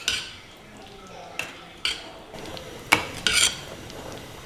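A spoon stirs egg curry in a metal pot, giving a few sharp clinks and scrapes against the pot rim spaced irregularly over quiet kitchen background.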